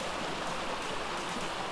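A dense rushing splash as a player drops into a pool of fake cave water in ARK: Survival Evolved, a continuous broad watery wash that stays steady and fairly loud throughout.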